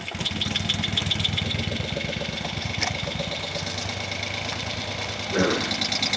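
A single cylinder of a 1971 Moto Guzzi Ambo engine runs with a steady, rapid low chugging pulse, close and continuous for the whole stretch, with a brief louder burst near the end.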